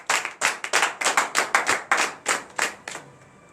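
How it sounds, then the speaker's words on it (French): Congregation clapping in unison during a Friday morning prayer service in Benin, about a dozen loud, evenly spaced claps in a quick rhythm that then fade out. "Donnez de vive acclamation."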